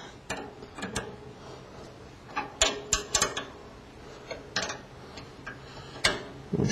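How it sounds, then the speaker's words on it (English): Ratchet clicks while tightening bolts on the back of a saw guide, coming in short irregular bursts of sharp ticks with pauses between, close and moderately loud. "Finish tightening up your bolts on the back."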